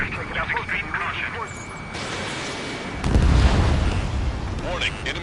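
Bombing explosions in the combat flight game Ace Combat 7 hit as a heavy, booming burst partway through, over steady aircraft engine drone and radio chatter.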